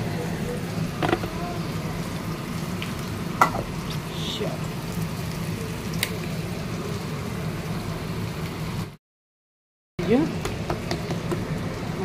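Onions frying in oil in a pan for a Bengali katla fish kalia, a steady close sizzle with occasional clicks and stirring, broken by a second of silence, with talk over it.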